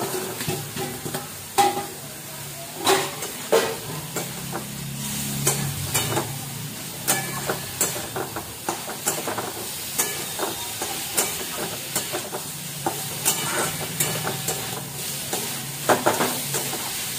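Potatoes and cauliflower sizzle and hiss as they fry in spiced oil, with repeated scraping and clattering strokes as a utensil stirs them in the pan.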